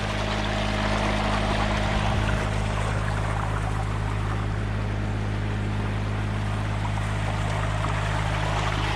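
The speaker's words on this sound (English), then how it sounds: "Good old clean pond water coming out." A pump pushing pond water out to feed a backyard water slide gives a steady, loud gushing rush with a constant low motor hum underneath, unbroken from start to finish.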